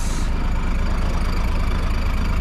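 A bus engine idles at a village stop in Nepal, giving a steady, loud low rumble with constant vibration and no talking.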